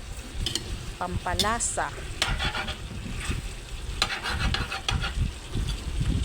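Pininyahang manok, a Filipino pineapple chicken, sizzles in a pan while a utensil stirs and scrapes with irregular clacks, close and fairly loud, with a brief spoken word partway through.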